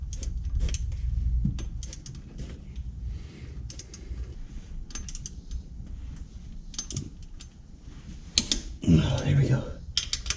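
Wrench torquing the APR pendulum mount bolts to 54 foot-pounds on a Mk7 Golf R: a series of close, sharp ratcheting clicks and metallic taps in bursts, with a louder clattering rattle near the end.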